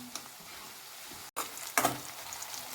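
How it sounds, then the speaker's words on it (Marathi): Whole spices and finely chopped onion sauté in oil with a steady, close sizzle, broken by a brief gap and one sharper stirring clatter midway. "ते तेलामध्ये एका साईडला व्यवस्थित परतून घेत आहे मी"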